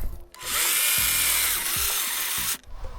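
A Dnipro-M DMS-201BC 12-volt cordless saw cuts through firewood, a steady loud buzzing whine lasting about two seconds with a slight strain in the middle, starting and stopping abruptly.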